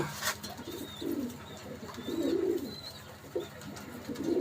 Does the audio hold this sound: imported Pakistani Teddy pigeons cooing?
yes